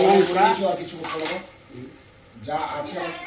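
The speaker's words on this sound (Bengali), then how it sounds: "টকে এই ফোড়ন দিলাম" Whole spices temper in hot oil for a Medinipur-style rohu fish curry soured with dried mango powder, giving a crackling, hissing sizzle that swells and dips while a voice talks over it.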